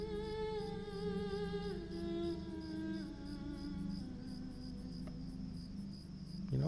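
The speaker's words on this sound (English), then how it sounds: "Even the crickets and the howling in the background." Crickets chirp steadily in a nighttime field in the online game Lord of the Rings Online, a rapid pulsing trill layered over soft ambient game music with sustained tones.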